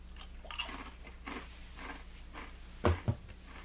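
Someone chews sugar cookie toast crunch cereal, with soft crunching bites throughout and two sharper, louder crunches near the end, heard up close over a quiet room hum.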